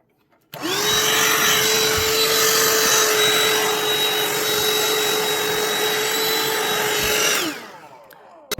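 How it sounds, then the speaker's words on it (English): A vacuum cleaner picks up cut fabric strips, switching on with a steady loud whine and roar that holds for about seven seconds before powering down, with no talk. "Then I'm going to use my vacuum to clean up the strips."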